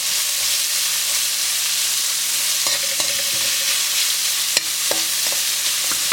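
Chopped onion sizzles and fries steadily in hot oil on high flame for bhindi do pyaza, with occasional scraping and clinking as it is stirred in the pan, close up and with no talking.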